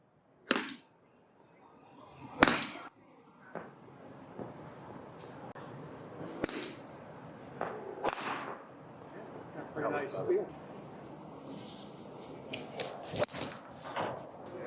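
A golfer strikes a Cobra 7-iron in a hitting booth at an indoor expo, giving a couple of sharp, crisp impact cracks amid faint crowd chatter and scattered knocks.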